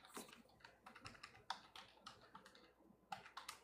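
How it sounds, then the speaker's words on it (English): Close, quiet computer keyboard typing with irregular bursts of key clicks and short pauses, some keystrokes sharper than others, with no speech. "You can hear my typing."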